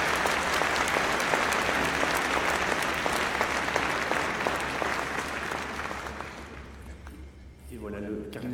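A parish conference audience applauds loudly for a cardinal, with sustained thick clapping that gradually fades out, followed by a voice speaking over the room at the end.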